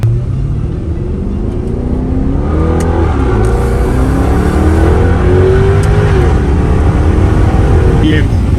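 An Audi R8 engine warms up with a steady, raucous growl that swells as it is revved, close and loud, while people talk over it.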